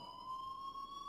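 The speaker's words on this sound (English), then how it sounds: "please turn off that alarm" A school alarm in the video game Life is Strange sounds as a steady, pure electronic tone, brief and fairly faint, holding one pitch with no voices over it.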